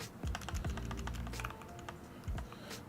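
Computer keyboard keys are typed in quick irregular bursts of soft clicks and taps while someone codes a game AI, quiet and close with no talking.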